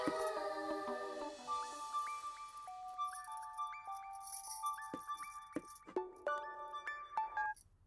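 A phone ringtone plays as a bright, chiming melody of clear tones, fairly quiet and alone, running for several seconds before stopping.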